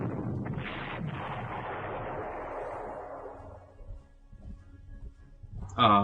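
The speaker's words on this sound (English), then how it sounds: "then I kill it with artillery" Artillery fire in the video game Panzer Corps: a heavy boom that rolls out and fades over several seconds, followed near the end by a short sharp burst, with no speech.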